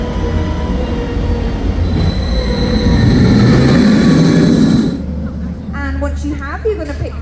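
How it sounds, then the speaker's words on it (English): A Penguin Trek roller coaster train at SeaWorld Orlando rumbles loudly with a rising mechanical roar and squealing wheels during a test run, then fades as voices speak over the lower hum. "as soon as one train is hitting the brakes, another one is launching within 30 seconds of that."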